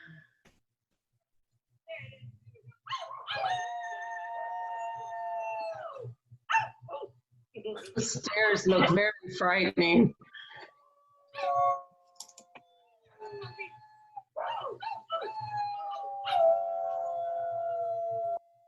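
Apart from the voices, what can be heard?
dogs howling in a shared video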